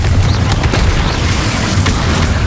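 The Confringo spell blast in Hogwarts Legacy on PlayStation 5 Pro, a loud, dense booming explosion that fills the short clip with heavy rumbling.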